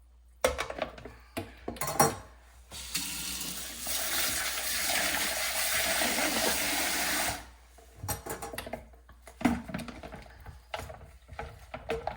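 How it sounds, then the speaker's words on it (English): Dishes and bowls washed by hand in a kitchen sink with one hand: knocks and clinks of dishware, a stretch of steady running tap water in the middle, then more scattered clatter near the microphone. "add smaller bowls into it as I'm washing"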